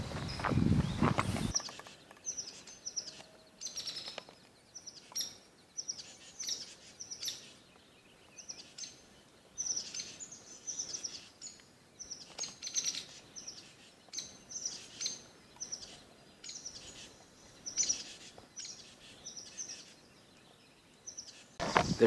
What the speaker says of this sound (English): the birds and wildlife really seem to be waking up